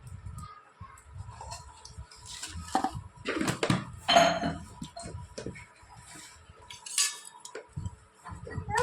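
A spoon clinks and scrapes in a bowl in short bursts, mixing gunda pickle ingredients with chilli powder and no oil, with a voice and some household sounds in the background.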